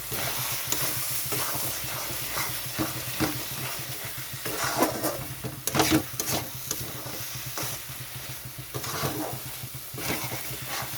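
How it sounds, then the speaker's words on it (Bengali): Fish frying in a kadai is stirred repeatedly, giving a steady sizzle with scraping and clattering strokes recurring throughout, close and moderately loud. "এটা বারবার নাড়তে হবে, মানে এটা মাছটা কড়াইতে লেগে যায়"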